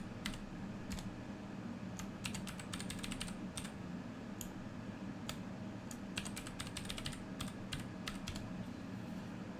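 A root password is typed on a computer keyboard in quick, irregular bursts of close, light key clicks over a faint steady hum, with no voices.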